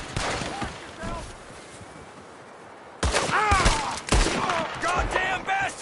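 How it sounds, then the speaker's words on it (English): Gunfire crackles through an ambush in Red Dead Redemption 2, with a quieter opening stretch, then louder bursts of repeated shots from about three seconds on, mixed with shouting voices. "There's another one shooting from the window!"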